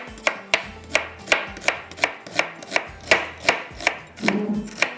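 A knife chops onion on a board in a steady series of about a dozen crisp, close strikes, evenly spaced and with no talk over them.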